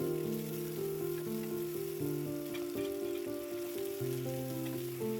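Sliced onion, mustard seeds, curry leaves and green chilies fry in hot oil for a Tamil yam curry, giving a soft, steady sizzle and crackle throughout, with faint background music and no talk.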